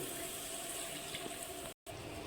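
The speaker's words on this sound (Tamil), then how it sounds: "இப்போ ஒரு அரை கிளாஸ் தண்ணி ஊற்றிடுங்க" Steady rushing water, half a glass, pours continuously into a cooking pan of masala for mutton bone gravy for a couple of seconds, with a brief dropout near the end before the flow resumes.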